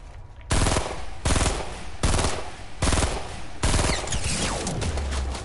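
Loud automatic gunfire from a PS4 shooter game comes in five sharp repeated bursts roughly a second apart, each a rapid rattle of shots, with no speech.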